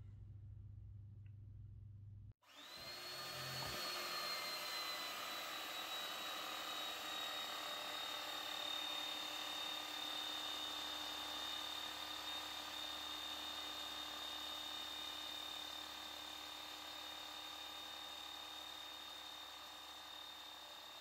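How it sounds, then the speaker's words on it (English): An electrohydraulic pump drives a hydraulic busbar cutter through a 100 by 10 mm bar, starting abruptly after a short hum, then a loud steady mechanical whine and grinding drone that continues without any voices. "it's powered by an electrohydraulic pump"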